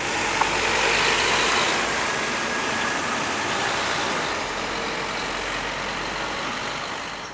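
A Centrebus route 707 single-decker bus, operated by National Express, pulls away from Luton Station Interchange, its engine rumbling steadily and fairly close for several seconds amid broad traffic noise, with no one talking.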